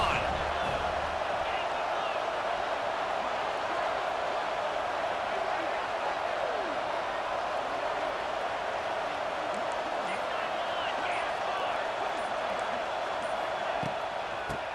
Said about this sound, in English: This crowd even louder now on second down as they try to hold on.